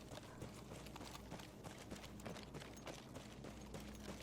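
Horse hooves clip-clop steadily in the video game Battlefield 1, a continuous rapid patter of hoof strikes buried in dense, noisy battlefield ambience.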